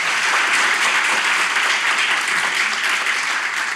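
A theatre audience in Kadıköy, Istanbul applauds, dense sustained clapping from a full house that holds steady throughout and eases slightly at the end.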